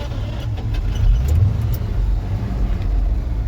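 ZIL 130 truck engine idling during soybean threshing, a loud steady low rumble that stays even throughout, with a few faint metallic clicks and rattles on top and no talking.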